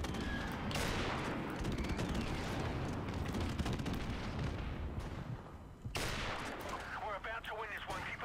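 Sustained, dense gunfire from an online Call of Duty: Modern Warfare Remastered domination match, with rapid automatic bursts and booming shots layered into a continuous roar.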